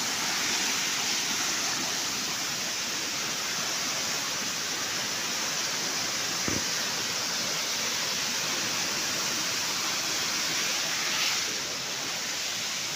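Strong current of the Seti river in Pokhara, Nepal rushing past in a continuous loud roar, steady throughout with a single brief knock midway and no talking.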